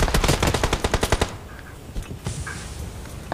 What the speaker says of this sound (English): Somebody shooting from behind.